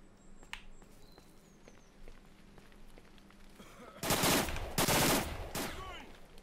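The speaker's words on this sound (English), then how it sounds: "Why are you shooting at me?" A burst of gunfire in the S.T.A.L.K.E.R. shooter, fired at the player: quiet ambience gives way to loud, dense rapid shots in two clusters, then a few trailing cracks.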